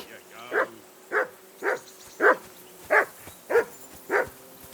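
A dog in Kingdom Come: Deliverance II barks seven times at an even pace, each bark moderately close and distinct over a low background hum.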